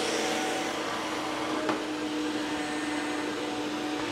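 The first Dyson vacuum cleaner runs steadily over carpet, its brush working beneath a constant close motor whine with one brief click partway through, and no one speaks.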